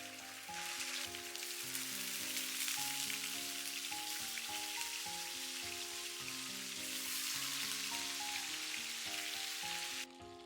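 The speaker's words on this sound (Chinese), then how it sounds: "倒入一些菜籽油，油熱以後把豆腐一片一片下鍋" Tofu slices pan-frying over high heat in rapeseed oil in a flat skillet, a steady loud sizzle lasting throughout with no talking, while background music plays underneath.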